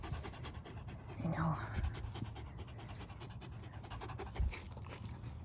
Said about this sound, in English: All the neighbor dogs are barking.